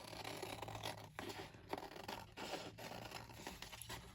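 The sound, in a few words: cutting paper with scissors or knife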